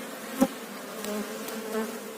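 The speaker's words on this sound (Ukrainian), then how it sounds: "Бджоли" A steady low insect hum fills the air at an open beehive, like many bees buzzing together, with a few faint clicks and taps.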